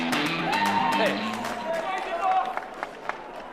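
A large crowd at a CPAC event cheering and clapping, a dense roar of applause that gradually thins into scattered claps, with a voice speaking over it.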